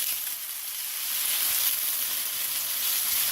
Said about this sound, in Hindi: अब इसमें मैं डाल रही हूँ चिकन। चिकन को इसमें हम फ्राई करेंगे, चिकन पीसेस को